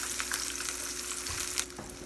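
Canned green tomatoes fry in a pan with a soft, steady sizzle and scattered crackling pops, close and quiet, with no one talking.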